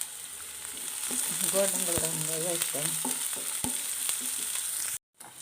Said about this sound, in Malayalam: ഇത് ഗോൾഡൻ ബ്രൗൺ വരെ വഴറ്റാം.